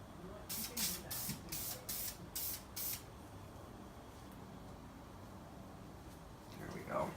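Several short bursts of aerosol lacquer spray hiss onto a wooden paddle indoors, six or seven quick pulses in a row, followed by quiet room noise.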